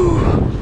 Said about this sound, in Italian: oggi il vento tira e tira contro, mai una volta a favore, mai